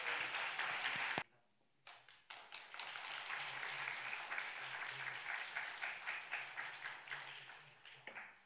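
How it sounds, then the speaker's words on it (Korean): Church congregation applauding during a Sunday afternoon praise and thanksgiving service, dense steady clapping after a brief pause, filling the room without speech. "큰 박수 부탁드리겠습니다."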